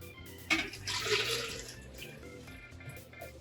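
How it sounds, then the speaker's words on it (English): Water is poured round and round during brewing of a chocolate bock beer, a splashing gush that swells after a sharp start and then trickles and drips more quietly, close by with no talking. "Pour a little bit in. Round and around we go."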